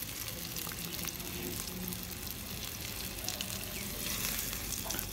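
Finely chopped medium onions fry in hot oil with a steady, dense close sizzle that runs throughout, with occasional stirring scrapes and no talking.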